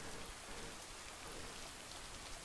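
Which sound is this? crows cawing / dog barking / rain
rain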